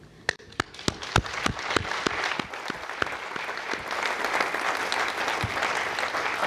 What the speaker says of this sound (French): il faut applaudir pour Frascati